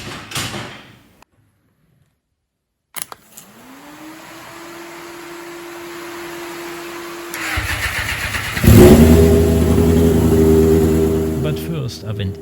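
An engine spinning a chain trombone test rig cranks once, then whirs up steadily, its pitch rising and holding before a harsher, louder rattling roar takes over near the end; a voice is briefly heard.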